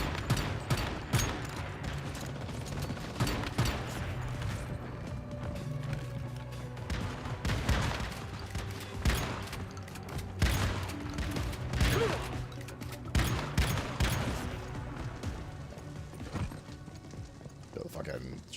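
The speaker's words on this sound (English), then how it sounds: "The fucking shotgun just pops off so hard, man." Shotgun fire in a video game: sharp, punchy blasts recur throughout a dense, busy in-game mix, with rapid bursts scattered across the whole stretch.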